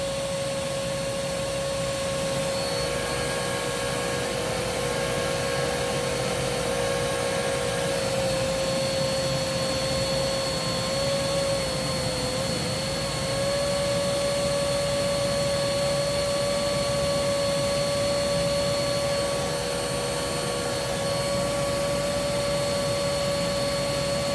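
Kenmore Magic Blue vacuum cleaner running steadily with its hard floor tool attached, a loud continuous whine holding one pitch throughout with only a slight wobble, no voices.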